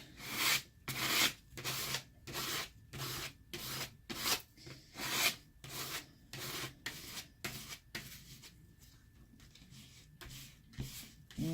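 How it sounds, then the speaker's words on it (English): A card scrapes paint off a journal page in a run of quick, rhythmic rasping strokes, close and distinct, easing into softer, sparser scrapes toward the end, with no voices. "pull some of this paint off of here. And scrape it down."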